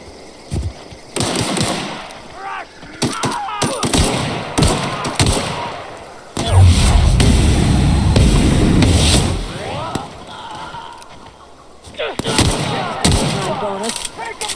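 Bursts of gunfire crack repeatedly in The Outer Worlds, sharp shots and rapid volleys spread through the scene with a heavy rumbling stretch in the middle and voices calling out between them.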